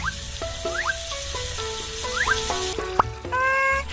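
Dumplings frying in oil in a pan in the cartoon-style street food cooking game Little Panda's Street Food, a steady sizzle under bright chirpy electronic blips and tones, ending with a sparkly chime.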